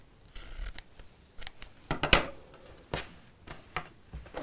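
Scissors snip through excess fabric on a sewn drawstring bag, a series of sharp, close cutting strokes spaced irregularly, the loudest near the middle, with no talk.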